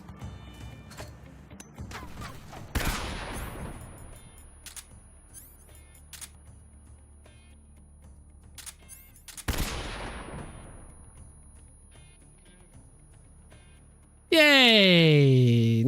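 Gunfire from the easy gun in the Metal Gear Solid video game, two sharp loud bursts a few seconds apart over quiet game ambience, followed by a sudden loud electronic tone at the end.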